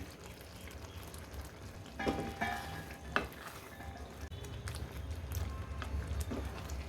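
Hotel-style mixed vegetable gravy with cream and kasuri methi being stirred in a pan, a steady low sizzle under a few soft scraping strokes of the spoon.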